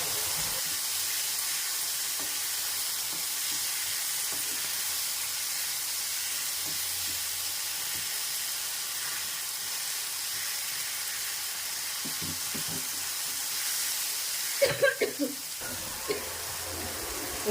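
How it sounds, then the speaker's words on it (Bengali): Ginger and garlic fry in oil in a pan while being stirred, a low, steady sizzle with faint scraping that runs quietly, then a few sharper clatters of the spoon near the end, with no talking. "আদা রসুনটা দিয়ে ভালোভাবে নেড়ে নেব যতক্ষণ না আদা রসুনের কাঁচা গন্ধটা চলে যায়, ততক্ষণ অবধি নাড়াচাড়া করতে হবে"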